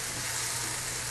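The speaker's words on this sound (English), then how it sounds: "Now you hear that sound? That's the sound of sauteing." Peppers and onions sautéing in a hot pan with a little sugar give a steady, dense, close sizzle that holds at an even level throughout, with no voices.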